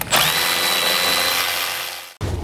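A cordless power tool spins off 13 mm nuts from a 2006-2008 Dodge Ram truck seat, giving one loud, close whirring run of about two seconds that cuts off abruptly, then a short follow-up buzz.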